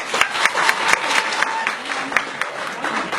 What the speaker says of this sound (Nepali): यत्र ताली बजाउनुपर्छ कि